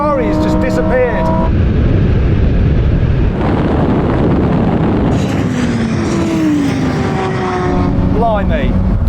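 Lamborghini Huracan STO, Ferrari Pista and Porsche GT3 supercars drag racing, with loud engine roar, gear-change kickdowns and heavy wind buffeting on the microphone, while someone talks excitedly over it.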